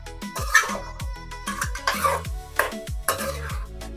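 Chicken korma masala stirred and fried in a pot, with repeated scraping and clattering of a spoon against the metal in an irregular rhythm, close and fairly loud, with no talk.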